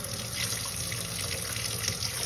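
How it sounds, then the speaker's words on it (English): Hot tap water from a filtered well supply runs into a measuring cup in a close, continuous rushing splash that stays steady from start to finish, with no talking. "I just turn my tap water onto the hottest that it will go."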